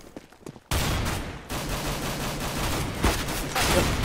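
Rapid gunfire from a shooting video game, a dense sustained burst of shots that starts abruptly after a quieter moment and continues loud and steady with a few sharper cracks.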